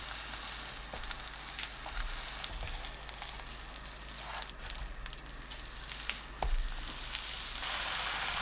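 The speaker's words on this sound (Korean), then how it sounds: "팬이 예열되면 식용유 1큰술 두르고 황태 올려 중약불로 구워주세요." Dried pollock fillet frying in a tablespoon of cooking oil over medium-low heat, a soft continuous sizzle and crackle with occasional light pressing thumps, close and fairly quiet.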